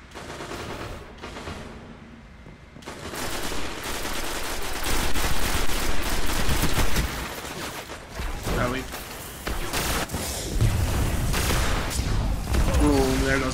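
Supercharge ability fired in Destiny during a Crucible match, a dense burst of heavy blasts and rapid gunfire-like crackle sustained loudly over several seconds, mixed with a voice talking underneath.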